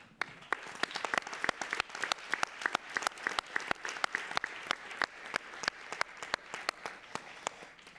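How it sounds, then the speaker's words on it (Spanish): Audience applause for Jaime at a 50th-anniversary panel of the AEEH congress: sustained, dense clapping from a large crowd with sharp individual claps standing out, steady for the full stretch. "os voy a pedir un aplauso para Jaime"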